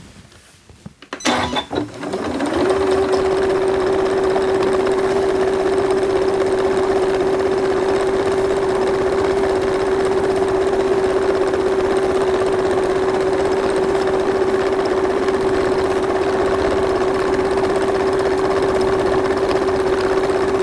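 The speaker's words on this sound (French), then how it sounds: "Maintenant, nous allons surpiquer la glissière afin que tout reste bien en place." A sewing machine topstitches a zipper on a dog cushion cover, starting after a brief clatter and then running as a loud, steady, continuous whir that holds at an even pitch with no talking.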